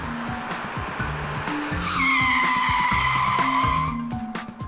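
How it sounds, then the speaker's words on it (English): A police car brakes hard on a motorway to check the road surface, tyres squealing loudly in a sustained screech over the engine noise as the car slows, close and with no talking. "seeing how much they can brake, but it's all about checking the surface of the roads"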